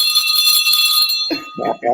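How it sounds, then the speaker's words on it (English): A bell rung at a panel discussion to signal a speaker's turn gives a bright sustained ringing that fades within a second, followed by voices talking close by. "this is your bell."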